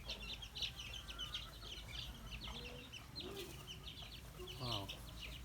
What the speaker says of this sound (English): Look at these chicks